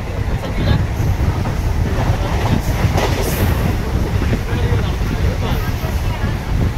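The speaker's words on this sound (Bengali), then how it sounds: "আর এখন আমাদের ট্রেন কিন্তু এসে দাঁড়ালো দীঘা স্টেশন" A Howrah to Digha local train pulls into Digha station, with a loud, continuous rumble and rattle of the wagons close by, wind buffeting the microphone.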